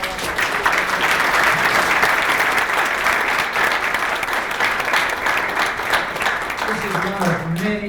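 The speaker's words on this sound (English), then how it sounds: "Let's all give a round of applause." At a public census forum, the audience gives a full round of applause that stays steady and close, and a voice begins speaking as it dies down in the final seconds.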